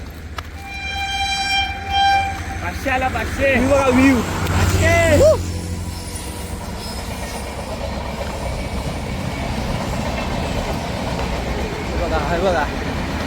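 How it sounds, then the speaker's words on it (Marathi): A train rumbles past with a steady clattering roar, its horn sounding early on, while a person talks over the noise. "आता ट्रेन दिसेल तुम्हाला ट्रेन दाखवतो थांबा"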